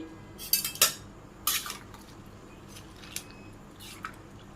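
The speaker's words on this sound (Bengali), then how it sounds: "পুঁই শাকগুলো দিবার রয়েছে দিয়ে দিই আমি দিয়ে আমি নেড়ে চেড়ে মিশিয়ে দিই" Malabar spinach being stirred into vegetables in a pot, with a few distinct scraping clinks of a utensil against the pot and soft rustling between them, close up.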